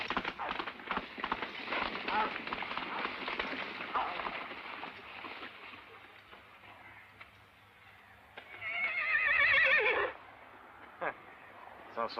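Horse hooves clip-clop steadily under background voices, then a loud, shrill horse whinny rises briefly near the end before fading.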